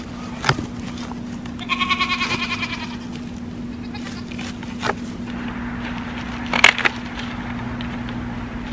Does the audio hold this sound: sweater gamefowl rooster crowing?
no